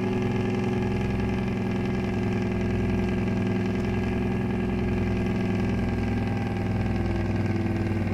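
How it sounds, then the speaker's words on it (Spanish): A steady, low diesel truck engine, a Cummins Big Cam N14 in a Freightliner Cascadia in a video game, idles continuously with a deep rumbling drone, holding constant loudness throughout with no voices. "escuchen el motor"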